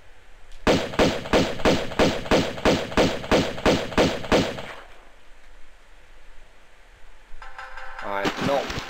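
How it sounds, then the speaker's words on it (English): Pistol gunfire in Tomb Raider II shooting catfish: about ten sharp, evenly spaced shots ring out in a rapid steady rhythm, loud and close, followed by a quiet pause and a brief burst of game effects at the end. "I'm going to finish them off with the pistols"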